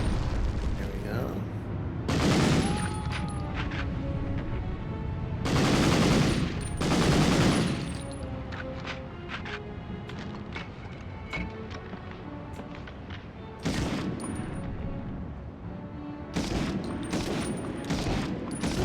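Machine gun fire in a video game, several loud bursts at irregular intervals standing out over continuous game sound and a talking voice.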